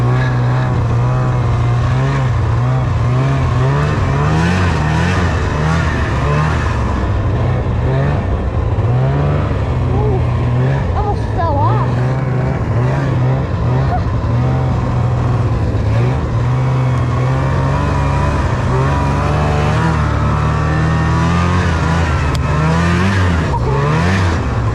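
A snowmobile engine, still a little cold, runs loud and close during a snow storm, its low drone rising and falling steadily as the throttle is worked, with no talking.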